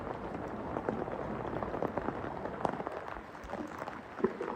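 Steady rain patters on a roof during a morning downpour, forming a dense, even wash of drops with occasional louder taps and no one speaking.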